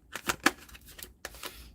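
Tarot cards being shuffled by hand, a run of quick crisp riffling flicks and soft slaps, faint and close, in a short irregular burst.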